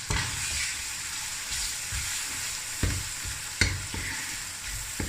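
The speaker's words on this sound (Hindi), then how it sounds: "अदरक लहसुन का कच्चापन दूर करते हैं, और साथ ही हम डाल देते हैं टमाटर।" Chopped tomatoes fry with ginger and garlic in a pan for chicken mongray, sizzling softly and steadily while a utensil scrapes and stirs at irregular intervals, each stroke a short clack, with no voices.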